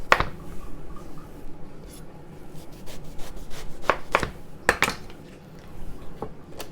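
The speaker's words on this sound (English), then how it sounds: "we're going to cut the top off and cut the bottom to make it flat, and then I'm just going to cube it" A knife cuts through an eggplant on a board in several crisp, close chops and scrapes spread unevenly over a few seconds, with softer rubbing between strokes and no talking.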